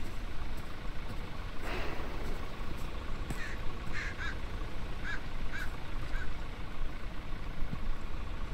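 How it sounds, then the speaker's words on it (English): Crow caws as a sound effect in the Resident Evil 4 Remake video game, several short calls over a steady ambient game background, moderately distant. "That's a sound effect for crows since like the fucking first Resident Evil."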